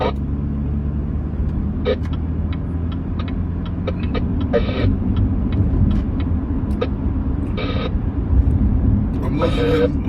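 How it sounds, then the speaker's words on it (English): Car engine warming up on a short drive after winter storage, a steady low rumble and road drone throughout, with brief clicks and rattles over it and a voice talking faintly at times. "taking the car for a little run. It's a good run. To warm up the engine"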